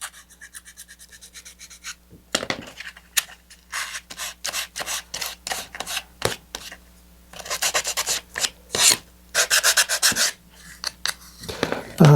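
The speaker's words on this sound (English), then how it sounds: "This one I have one of the triangular needle files." Triangular needle file rasping over a SpaceShipTwo-style model rocket, working into tight corners: a sequence of short, close scraping strokes, some quick and clustered, others longer and louder, with no talking.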